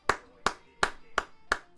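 Five sharp hand claps in a slow, even rhythm, close and clear with short gaps of silence between them.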